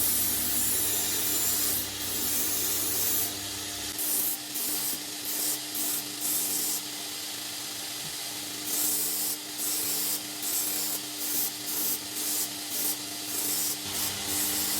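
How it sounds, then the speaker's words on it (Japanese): The back of a rusty steel kitchen knife is ground down in steady back-and-forth strokes, a close, continuous rasping that comes in rhythmic bursts with brief pauses between them. "鋼が薄くて深く掘れないので、鋼がなくならないように慎重に削っていきます。"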